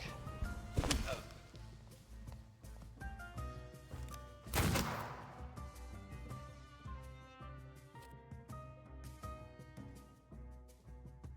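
Gunfire in The Thaumaturge video game: two sharp, loud blasts about four seconds apart, set against a layered musical score and thumping game effects.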